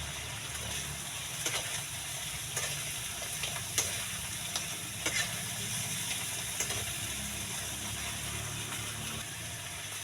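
Food sizzles steadily as it fries in a pan, with scattered clinks and scrapes of a spoon stirring through it across the whole stretch, close and fairly loud.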